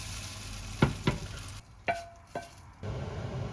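Scrambled eggs sizzle in a hot oiled pan while a utensil stirs and scrapes, making a few sharp clicks and knocks between bursts of frying noise that briefly drop away.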